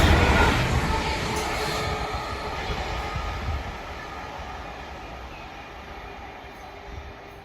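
A train rumbles past on a railway line near Langley Mill, loud at first and steadily fading as it draws away, a broad continuous roar with no talking.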